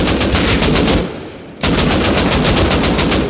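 Loud, close automatic gunfire from Rust Console Edition plays as rapid repeated bursts with a brief pause of about half a second before firing resumes.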